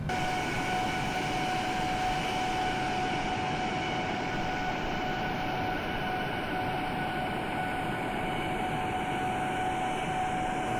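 An Etihad airliner climbs out after takeoff from Colombo, Sri Lanka in Microsoft Flight Simulator, a steady loud jet engine roar with a constant whine and a slowly falling tone, no talking.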